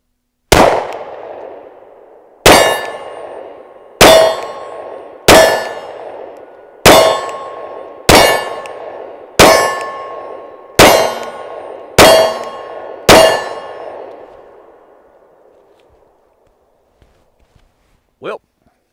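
Ten sharp metallic clangs from SIG P365 pistol rounds striking steel targets, each ringing briefly and decaying, spaced about one to one and a half seconds apart, then fading to quiet with one faint final knock.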